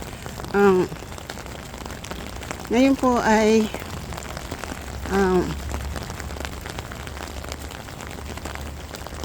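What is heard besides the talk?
heavy rain heard while riding a bus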